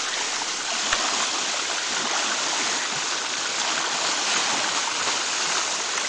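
Steady broadband rush of a stream flowing into Lake Bowker in an uninhabited stretch of shoreline, constant and fairly close with no breaks, water noise alone throughout.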